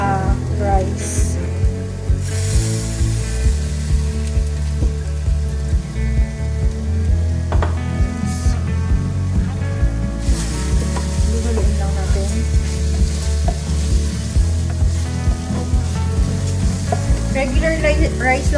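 Rice stir-fried in a pan with garlic sizzles loudly and continuously, with frequent scraping and stirring clatter from the utensil throughout.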